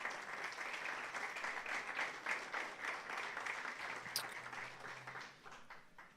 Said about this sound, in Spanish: ¿Qué tal si usted le da un aplauso al Señor por esa verdad?